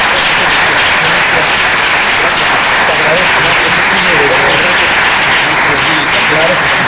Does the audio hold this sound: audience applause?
yes